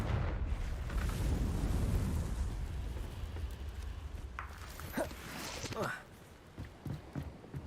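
Confringo fire spell blasts in Hogwarts Legacy: a loud rumbling explosive burst fills the opening seconds, then decays into crackling debris and sharp pops, with voice sounds near the end.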